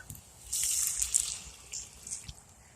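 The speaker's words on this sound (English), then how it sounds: "you want just a little bit of water in the bottom of the pan" Water pours into a cooking pan in a steady splashing stream, rising and falling in force for a couple of seconds, fairly quiet and close.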